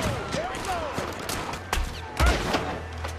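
Gunshots in Red Dead Redemption 2, a few sharp cracks and thumps spread across a short stretch, with an occasional voice mixed in among the outdoor game sounds.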